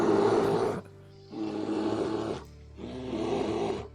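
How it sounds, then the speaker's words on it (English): A deep monster roar sound effect played during a Dungeons & Dragons session, three long rumbling growls separated by brief pauses, loud and without voices over it. "You hear a roar emit from the boat"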